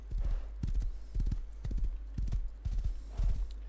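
A horse's hooves clip-clop in a steady, rhythmic gait in the game Rust, with repeated paired hoofbeats at a close, even pace and no talking.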